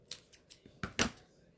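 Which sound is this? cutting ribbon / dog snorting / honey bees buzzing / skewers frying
cutting ribbon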